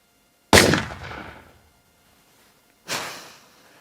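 A gunshot sound effect rings out in two separate blasts: a sharp, loud bang with a long decaying tail, then a second, softer shot about two seconds later.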